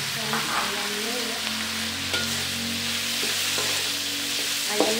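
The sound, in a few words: chicken frying with belacan for spicy fried rice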